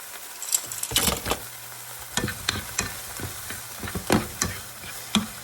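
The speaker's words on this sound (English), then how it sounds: "So this is what it's looking like as I'm just sauteing these." Vegetables sauté in a tablespoon of butter for broccoli cheddar soup: a steady close sizzle, broken by repeated clattering stirs of a utensil in the pan, with no talking.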